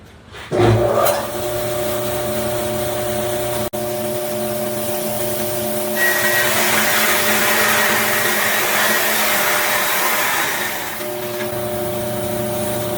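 A table saw rips a board straight along its fence while cutting strips for an end-grain cutting board, with a loud, steady motor whine throughout that thickens in the middle as the blade bites the wood.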